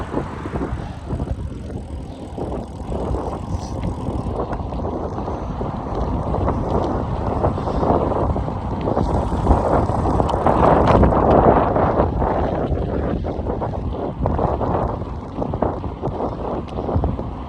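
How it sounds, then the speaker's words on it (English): A crosswind hits the microphone during a long bike ride, a continuous loud rushing roar that swells and buffets throughout with no voices. "The wind ain't pushing me, it's side swiping me"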